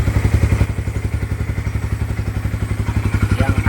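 A Bajaj Pulsar NS200 fitted with a 240cc engine idles close by with a fast, even, throbbing putter, loud and uninterrupted, with no voices over it.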